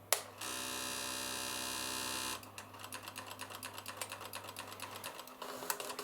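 An Oric MCP-40 printer running its font display, a steady mechanical whir that gives way to a rapid, rattling print-head chatter with short pauses, close and alone.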